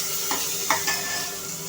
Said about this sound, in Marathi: आता ना आपण ह्याच तुपावरती हे जे तांदूळ आपण ठेवले होते ना हे छान असे परतून घ्यायचे